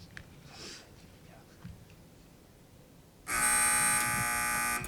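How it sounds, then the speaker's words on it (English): A quiz match answer buzzer sounds as a loud, steady electronic buzz lasting over a second, after a stretch of quiet background murmur. "Teams, wait for the buzzer if you'd like to answer."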